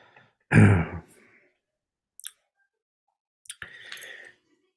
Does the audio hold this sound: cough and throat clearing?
yes